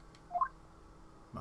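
A few short, faint dial tones from a cell phone in the Ace Attorney Investigations video game, heard as two quick beeps with quiet background before a louder sound cuts in at the end.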